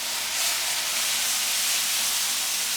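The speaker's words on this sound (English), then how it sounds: "make a lot of sizzling" Chicken gravy sizzling steadily in a pan as it is stirred without pause, a dense, even hiss running at constant loudness throughout with no voices.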